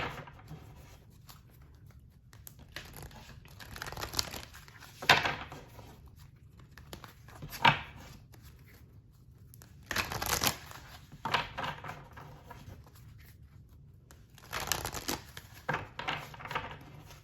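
Tarot cards are shuffled by hand in several separate bursts of papery riffling and flicking, close and crisp, separated by quiet pauses.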